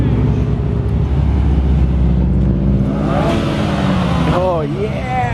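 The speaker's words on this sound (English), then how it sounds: "Little cars rolling in." Small cars roll in with engines revving, a steady loud motor drone under people talking, with a rising and falling rev near the end.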